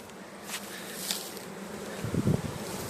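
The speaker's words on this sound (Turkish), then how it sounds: "Güzel bir oğul. Arı karniyola benziyor ama bakacağız." A honey bee swarm, apparently Carniolan bees, hums in a steady, soft buzz throughout, with a brief louder burst of low rustling near the end.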